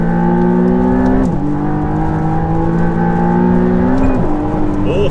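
McLaren Artura accelerating up the hill at a speed festival, a loud close engine note climbing through the gears with two brief drops at shifts before rising again.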